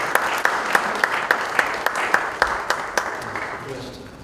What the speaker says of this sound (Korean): 우리 같이 인사할 때 박수로 격려해 주시면 감사하겠습니다.